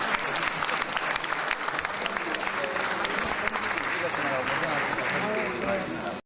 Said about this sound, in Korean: 여러분 박수 좀 주세요.